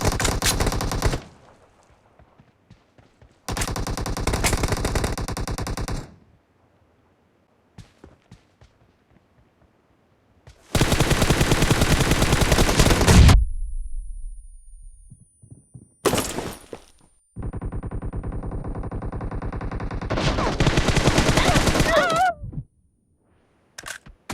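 Gunfire from a PUBG Mobile team deathmatch comes in loud automatic bursts, each a rapid rattle lasting a couple of seconds, separated by stretches of near silence.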